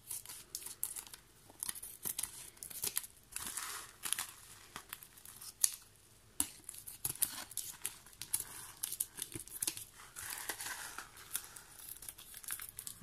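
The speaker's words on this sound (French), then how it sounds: "Vous allez prendre les ciseaux et on va couper tout ce qui dépasse" Scissors snip and trim paper edges while a dreamcatcher is being made: quiet, close crinkling and cutting sounds in uneven bursts with short pauses between, and no talking.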